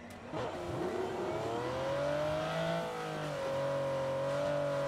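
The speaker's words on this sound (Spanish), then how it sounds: "Escucho coche." A video game car engine revs and holds a steady, rising drone for several seconds, fairly close and loud, with no talking over it.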